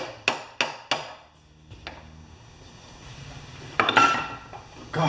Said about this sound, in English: Hammer, hammer.